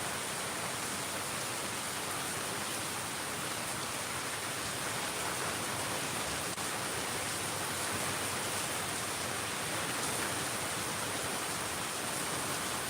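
Heavy rain pours down steadily during a storm, a dense, constant hiss that stays loud and unbroken throughout with no voices.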